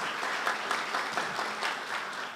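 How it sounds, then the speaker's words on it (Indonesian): A church congregation claps steadily and warmly during a worship service, a dense patter of many hands continuing throughout. "Beri tepuk tangan dulu buat Tuhan Yesus."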